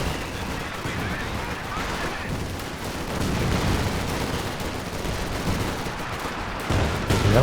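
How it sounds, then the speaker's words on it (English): Incendiary grenades dropped during a Company of Heroes 2 2v2 match, heard within a dense, continuous battle mix of gunfire and explosions that stays loud and steady throughout. "Dropping incendiary grenades out."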